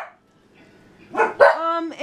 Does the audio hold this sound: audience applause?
no